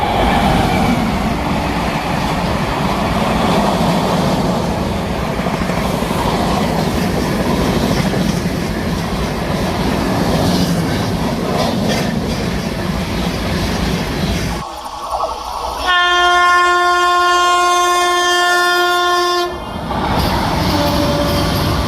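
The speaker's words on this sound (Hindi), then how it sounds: "कितनी पुरानी ट्रेन अभी वर्क कर रहा है ये" Old double-decker Indian train running, steady loud rumble and clickety-clack of wheels close by, then a long sustained horn blast near the end before the running noise resumes.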